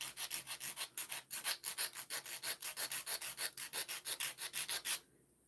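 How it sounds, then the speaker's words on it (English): A nail file rubs back and forth across acrylic talon nails in quick, even strokes, about twenty close raspy passes in a steady rhythm that stop abruptly near the end. "I'm going to file this. And we can keep chatting while I'm filing."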